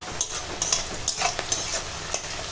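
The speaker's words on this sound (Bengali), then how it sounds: "এখন পেঁয়াজ আর কাঁচা লঙ্কা আগে ভেজে নেবো ভালো করে" Sliced onions and green chillies fry in hot oil while being stirred, a continuous near sizzle broken by repeated scraping stir strokes at a quick, uneven rhythm, without any voices.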